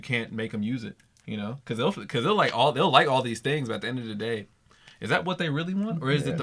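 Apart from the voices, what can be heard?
No everyday noise stands out behind the speech.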